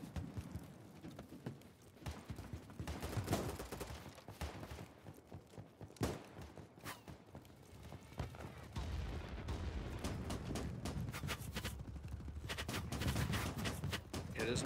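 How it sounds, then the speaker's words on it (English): Machine gun fire in BattleBit Remastered, scattered bursts and single shots from several distances, some sharp and near, others distant, mixed with battlefield rumble and vehicle noise, irregular and dense throughout. "there's a machine gunner over there in that building"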